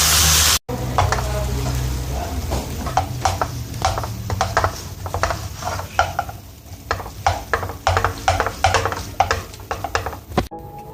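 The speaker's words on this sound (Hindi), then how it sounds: "सोया सॉस डाल देंगे, अब इसको हम पैन में डाल देंगे।" Spicy spaghetti with soy sauce stir-fried in a pan, a steady loud sizzle broken by repeated scraping and stirring strokes, close up and without talk.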